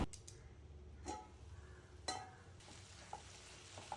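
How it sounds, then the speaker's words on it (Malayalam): Onions sautéing in a pan for a prawn kuruma, with a soft, steady sizzle broken by a few sharp stirring clicks and scrapes, close and fairly quiet. "അതും കൂടെ ചേർത്ത് നന്നായിട്ടൊന്ന് വഴറ്റിയെടുക്കുന്നുണ്ട്."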